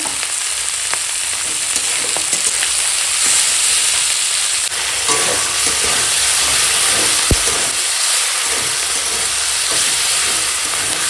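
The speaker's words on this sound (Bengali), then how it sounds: "মশলাটা বেশ খানিকক্ষণ ভেজে নিয়েছি" Masala spice paste fries loudly in a pan for a fish curry with cauliflower and peas. A dense, steady sizzle and hiss carries through the whole stretch, with occasional scrapes and clinks from stirring.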